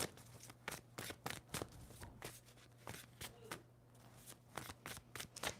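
Tarot cards are shuffled by hand up close, a quick series of soft riffling flicks and taps in an uneven rhythm, quiet and without talk.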